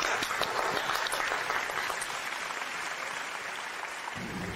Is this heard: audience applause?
yes